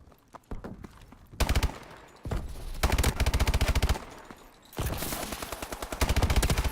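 Repeated bursts of automatic gunfire from the video game Call of Duty Advanced Warfare, loud rapid volleys with short pauses between them and no talk over them.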